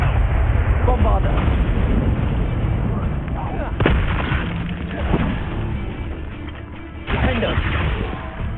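A Bombarda explosive spell goes off in Hogwarts Legacy, giving booming, blast-like bursts and rumbling impacts over dense game combat noise. Several sharp hits stand out in the loud, continuous mix.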